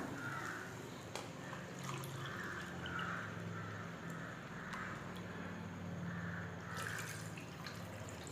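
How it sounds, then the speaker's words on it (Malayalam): A cup of water poured into a pan of coconut milk for sweet chakkara choru rice gives soft liquid splashing and dripping, close and fairly quiet, over a faint low background hiss, with no talking. "ഇനി ഇതിലേക്ക് നമ്മൾ ഒരു കപ്പ് വെള്ളം കൂടി ചേർത്ത് കൊടുക്കണം"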